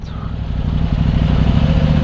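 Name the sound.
KTM 790 Duke motorcycle engine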